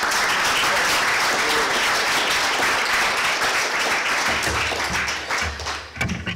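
A hall audience gives a continuous round of applause welcoming Lee Bollinger to CEU, dense and even clapping that thins out toward the end, with a few thumps as someone approaches.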